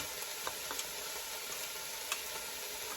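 Garlic sizzles and fries in a pan with onions on an Aga cooker, a steady bright hiss with a few small pops and crackles, fairly quiet and continuous, with no talking.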